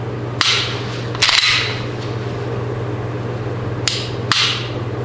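Four sharp mechanical clicks from a Ruger American pistol trigger being pulled and reset, spaced irregularly over a low steady hum, close up and fairly crisp.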